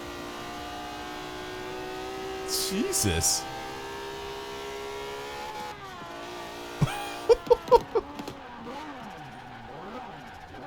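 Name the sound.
drift car engine revving, video game Forza Horizon 4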